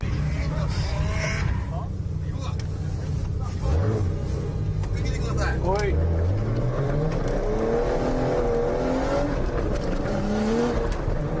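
An aggressive turbocharged Nissan Skyline engine, standard turbo at relatively low boost, revs and snarls while drifting, its pitch sweeping up and down repeatedly, loud and close, with a voice talking over it.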